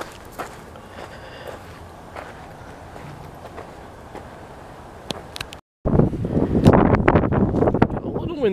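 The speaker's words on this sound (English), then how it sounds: "A little windier out here now." Wind blowing through the pine barrens at an outdoor preserve, a low rushing noise under footsteps on the trail, then louder gusts buffeting the microphone near the end, with a person speaking faintly at times.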